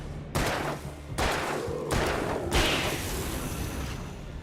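Several sharp revolver shots fired in quick succession in the action game Alan Wake, each a loud burst with a ringing tail, four blasts in about four seconds with no talking.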